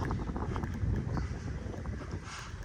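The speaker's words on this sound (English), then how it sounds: "getting breezy. Sorry about that." Strong wind buffeting the microphone on a hurricane-damaged beach at Lowdermilk Beach Park in Naples, Florida, after Hurricane Ian: a continuous loud rumbling roar that fills the whole clip with no speech.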